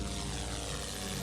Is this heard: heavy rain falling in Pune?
no